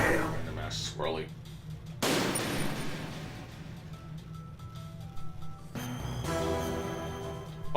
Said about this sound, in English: the footsteps create like a really loud sound, though it's the sound of the explosion going off